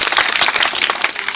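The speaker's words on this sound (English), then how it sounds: "A warm round of applause for him" An audience at a school speech bursts into applause, dense hand clapping near and loud throughout the short burst.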